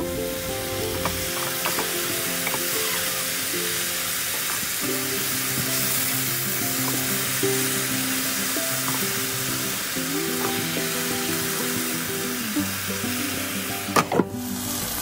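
Nonta greens fry in a pan with a constant loud sizzle throughout, broken by rhythmic stirring knocks and scrapes, and a sharp clatter near the end.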